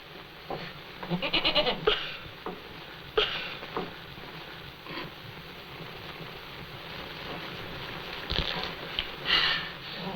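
A goat bleats in the 1937 film Heidi, several short, wavering cries coming in bursts over a quiet, hissy old soundtrack.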